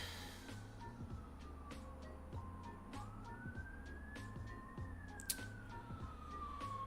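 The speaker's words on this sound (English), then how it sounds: "Apologies for the ambulance you might hear in the background there." An ambulance siren wails somewhere in the distance, its tone sliding slowly up and down, faint behind a steady low hum and a few scattered clicks.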